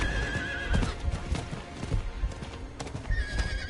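Video game horse hooves clip-clop in a quick, uneven rhythm, mixed with a whinny, loud and close, with no talk over them.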